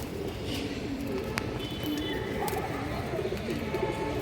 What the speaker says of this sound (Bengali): এগুলো কিন্তু পাল্লা করা কবুতরই দর্শক খুবই সুন্দর একটা সবুজ গোলা পেয়ার